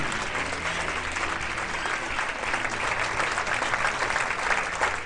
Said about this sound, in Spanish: Dele fuerte ese aplauso a Cristo